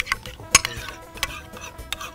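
A spoon scraping and clinking through a rice mix in a large pan, a few sparse knocks and scrapes over a quiet background.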